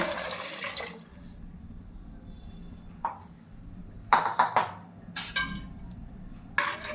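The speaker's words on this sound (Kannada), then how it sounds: "ಒಂದು ಬೌಲಷ್ಟು ಮತ್ತೆ ನೀರು ಹಾಕೋಣ" Water splashes into a pot of ghee rice in several short, quiet pours separated by pauses, close by in a calm room.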